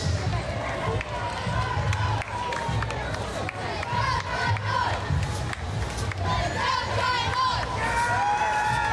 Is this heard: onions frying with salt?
no